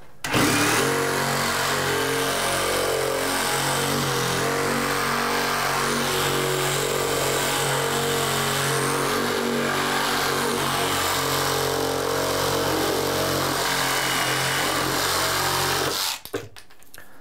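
Reciprocating saw fitted with a dull blade, cutting under heavy pressure: a loud, steady, harsh motor whine and buzzing rasp that runs without a break for about sixteen seconds, then stops abruptly, with no talking over it.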